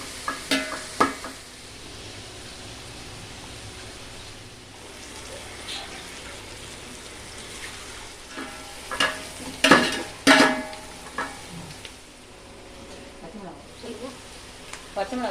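Ingredients for chicken biryani sauté in a pan, giving a soft sizzle under intermittent stirring scrapes that cluster into louder bursts midway, with quiet gaps between them.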